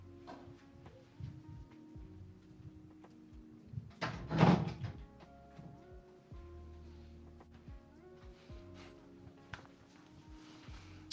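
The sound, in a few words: door being closed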